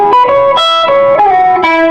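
An electric guitar with its volume rolled back plays a clean classic-rock tone through a Reinhardt Sentinel head and Reinhardt 2x12 cab, with a few loud, close, sustained picked notes and chords that ring into each other.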